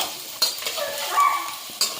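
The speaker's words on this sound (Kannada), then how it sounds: "ಸೊ ಇದರಲ್ಲಿ ನಾವು ರೋಸ್ಟ್ ಮಾಡ್ಕೊತೀವಿ. ಸೊ ಆಮೇಲೆ ಸ್ವಲ್ಪ ಎಣ್ಣೆ ಹಾಕೋಣ." Paneer roasting in hot oil in a pan, a soft steady sizzle with light scraping and stirring, plus a couple of sharp clinks of a utensil against the pan.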